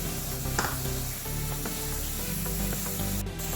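Garlic and small onions sizzle in a pot, a steady soft frying hiss with light scraping and stirring knocks throughout, fairly faint and close, no voices.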